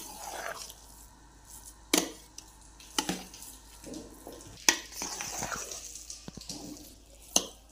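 A spoon stirs a gram flour ladoo mixture with ghee in a pan, giving soft scraping strokes with several sharper clinks against the metal at irregular intervals, close and fairly quiet.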